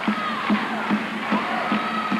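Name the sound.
volleyball crowd on their feet clapping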